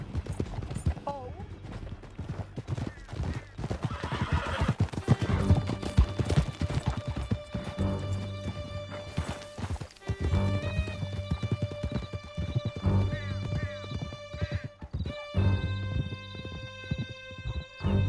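Rapid clip-clop of galloping horse hooves during a chase through a canyon in the video game Red Dead Redemption 2, with occasional whinnies and voices shouting over a dense, continuous bed of game music and action.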